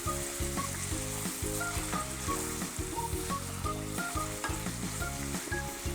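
Chopped onion frying in butter in a pan gives a loud, continuous sizzle and crackle with pops and stirring throughout, and no voices are heard.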